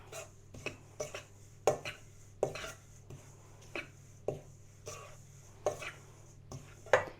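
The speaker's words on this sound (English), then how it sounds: "and then our baking powder. And we just give that a little mix." Flour, wheat bran and baking powder stirred in a bowl for a rhubarb cake, a rapid series of about a dozen sharp clinks and taps of a utensil against the bowl, close and uneven in rhythm, without talk.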